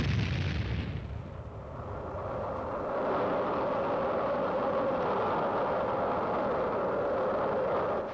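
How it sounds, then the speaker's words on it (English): Korean War howitzer artillery lobbing rounds at an enemy outpost: a loud blast opens, then a long, heavy rumbling roar rolls on and sustains without a break, with no voices. "howitzer somewhere in Korea lobbing out a few rounds to take care of an enemy outpost"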